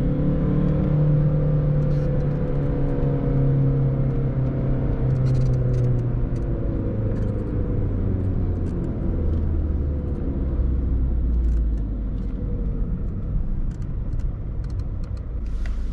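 A VW Polo 1.6 TDI 90 HP diesel with a 7-speed DSG drives through city streets, its engine a steady low rumble and whir that rises and falls through the gears, heard close from inside the car.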